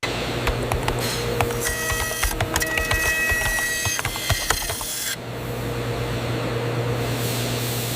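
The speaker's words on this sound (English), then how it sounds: "The end facer bevels the steel to a precise 30-degree angle." An end facer machine cuts a 30-degree bevel on steel pipe ends, giving a loud, busy mechanical clatter with ringing metallic tones. The clatter cuts off abruptly partway through, leaving only a steady industrial hum.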